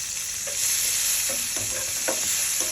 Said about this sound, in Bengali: ওই তেলের মধ্যেই পেঁয়াজ কুচি দিয়ে পেঁয়াজটা একটু ভেজে নিচ্ছি